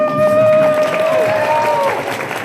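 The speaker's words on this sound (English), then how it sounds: "Huge round of applause for our AV staff." An audience gives a round of applause for the AV staff at a live event. Scattered clapping mixes with whoops and cheering voices and crowd noise, then fades slightly.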